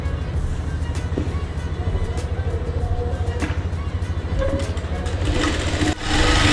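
A sewing machine stitches the shoulder seam of a baby frock in quick, regular needle pulses, a steady close whir with a slight pause near the end before it picks up again.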